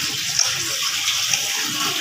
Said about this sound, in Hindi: थोड़ा सा पानी शामिल करना,